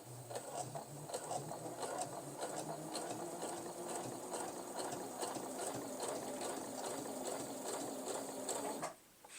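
A Feiyue FY e350 sewing machine stitches steadily through four layers of denim, a close, rapid, even mechanical chatter for about nine seconds before stopping abruptly.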